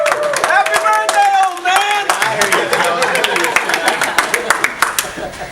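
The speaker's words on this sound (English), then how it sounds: "let's clap it up for that" An audience claps and applauds to celebrate a father's birthday, a dense patter of hand claps that thins into scattered claps, with a voice speaking loudly over the start.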